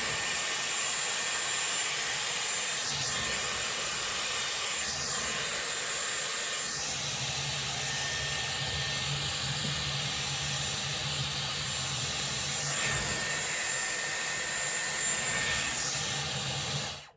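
Dyson Airwrap styler blow-drying hair with a round brush barrel, a loud steady airflow hiss and motor whine running unbroken for the whole stretch, with slight shifts in tone as the hair is wound, and no talking.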